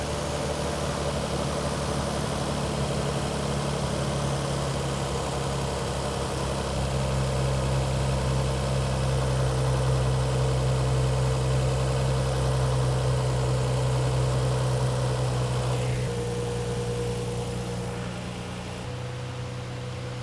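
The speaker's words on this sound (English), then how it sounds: "That idle screw is down as much as it will go, and we're still sitting at about 1100 RPM" A 1998 Nissan Skyline R34 idles steadily at about 1100 RPM, high for its idle, giving a continuous low hum with a faint vibrating edge that holds even and unbroken, close and alone, then softens slightly near the end.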